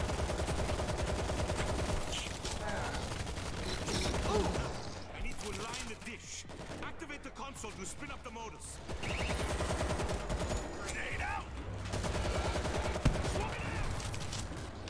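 An automated turret fires during a zombie-horde round of the video game World War Z, producing dense, continuous rapid gunfire bursts with a faint voice now and then underneath.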